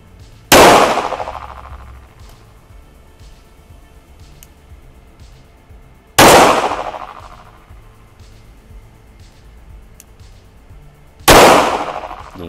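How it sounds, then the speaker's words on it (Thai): Three loud, sharp pistol shots from a Glock 17 MOS at a shooting range, spaced about five seconds apart, each with a short ringing decay and quiet background between. "พร้อมแล้วเริ่มยิง"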